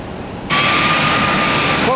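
An airliner climbs away on a go-around at Tampa amid wind shear and lightning. A loud, steady jet roar with a high whine bursts in abruptly and holds strong to the end.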